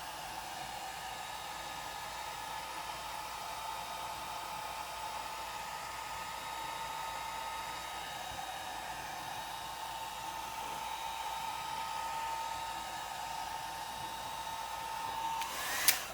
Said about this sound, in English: I'm going to use my dryer, and I'm going to use it on a low setting, warm